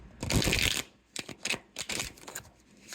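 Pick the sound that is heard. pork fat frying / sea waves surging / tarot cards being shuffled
tarot cards being shuffled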